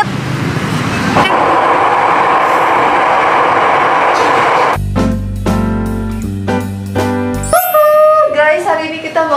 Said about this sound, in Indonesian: hari ini kita mau naik kereta MRT mau ke Senoparty